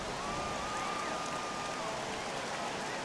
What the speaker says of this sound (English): it is really coming down out there. This isn't an easy sport to play in the rain.